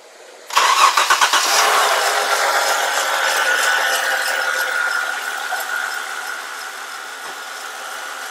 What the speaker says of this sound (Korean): 죄송한데 시동 한 번만 좀 걸어주세요